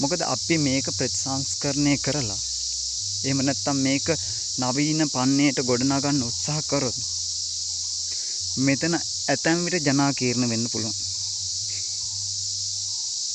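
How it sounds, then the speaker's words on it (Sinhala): Crickets chirp continuously throughout in a quiet natural outdoor setting, a steady high-pitched drone under someone speaking at length. "රැහැයියන්ගේ හඬ"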